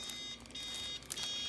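A Ninja DualBrew coffee maker with its drip stopper set to closed gives out short, shrill electronic beeps, about two bursts near the end, close by over a steady background hum.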